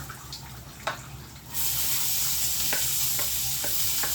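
Garlic frying in a pan: a quieter sizzle with a couple of clicks, then a sudden, much louder, dense crackling hiss with occasional sharp spatters.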